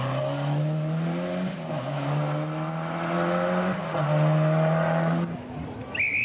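A Volvo 240 Turbo rally car engine roars steadily at a rally, its pitch climbing through gears with brief dips at shifts, loud and sustained.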